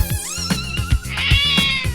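A cat meows repeatedly in a children's song, several distinct rising and falling mews sounding close and clear over a bouncy, rhythmic musical backing.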